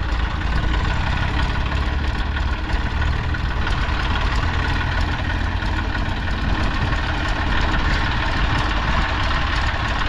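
Several Eicher tractors stuck together, their diesel engines idling loud and steady at close range. The low rumble continues without a break for the whole stretch and no one speaks.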